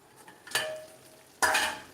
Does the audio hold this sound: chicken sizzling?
yes